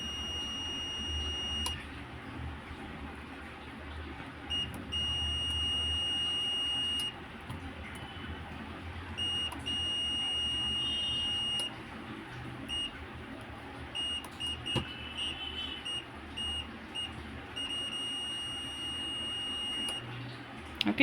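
A buzzer on an IoT five-channel relay board gives a steady high electronic tone, sounding in several long stretches that start and stop as relays switch, faint against a quiet room.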